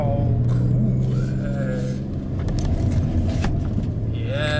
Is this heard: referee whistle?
no